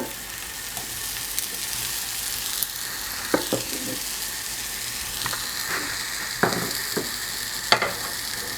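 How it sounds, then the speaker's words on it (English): Buttered toast frying in a pan, a steady close sizzle with occasional sharp clicks and scrapes from turning or handling the bread. "We're also making butter toast. That's a toast I just put on butter on both sides."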